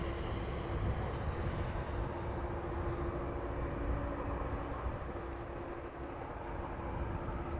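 A Croatia Airlines Airbus A319 arriving from Zagreb at Amsterdam Schiphol gives off a steady, broad jet roar with a faint tonal whine, heard from a distance at constant strength throughout.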